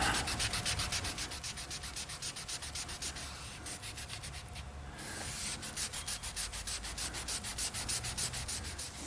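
A beater towel wipes polish residue off plastic and rubber trim on a Brewster Green Porsche 992 GT3 Touring. Quick, rhythmic close-up rubbing strokes repeat steadily, with a brief pause midway.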